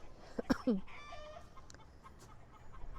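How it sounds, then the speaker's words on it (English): Chickens cluck and squawk in a few quick bursts, fairly close, followed by quieter background sounds and faint clucking. "Chickens are having a party."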